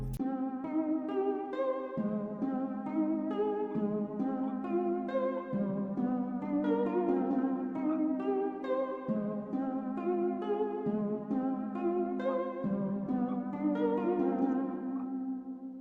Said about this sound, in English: it's kind of like an arpeggiator